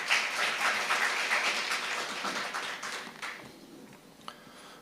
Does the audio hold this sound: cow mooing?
no